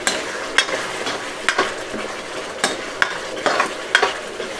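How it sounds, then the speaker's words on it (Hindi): Whole onions hit a pan of sizzling masala, giving a frying hiss punctuated by repeated scraping and clinking stirs of a spoon against the pan. "हमें साबुत ही प्याज डालनी है।"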